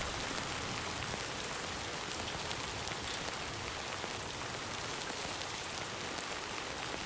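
Steady rain in Death Stranding 2, a dense, even hiss of drops pattering on surfaces that continues unbroken, with no voices.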